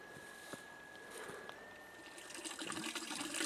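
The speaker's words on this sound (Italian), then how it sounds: "Ed ecco la mitica Fontana Tarabin, circa 950 metri di quota." Water runs from the Tarabin mountain fountain at about 950 metres, a faint, steady trickle and splash heard from close by with a few light knocks, growing a little louder toward the end.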